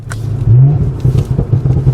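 A TTE810 turbo on an Audi B9 S5 Sportback with quattro all-wheel drive spools up under a loud, close engine drone, a rising whine swelling briefly over the steady rumble.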